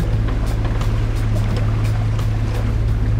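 A boat travelling from Puerto Rico toward the Bahamas moves through the water at six knots, giving a loud, steady low engine drone with continuous rushing water and wave wash and no talking.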